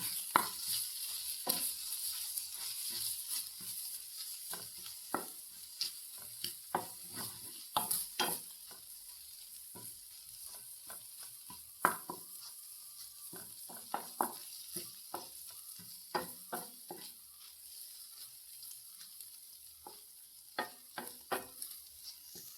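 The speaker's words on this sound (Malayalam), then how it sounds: "ഇളക്കിയിട്ടൊന്ന് വറുത്തെടുക്കണം" Egg pieces being stirred and fried in a pan, heard as a steady soft sizzle with frequent sharp scraping and clinking strokes of a utensil in irregular rhythm, close and moderately loud, with no talking.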